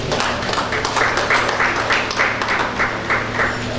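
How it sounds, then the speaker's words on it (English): A room full of people at a civil society meeting on tax compliance breaks into steady, sustained applause, dense overlapping claps rising and falling slightly. "Round of applause."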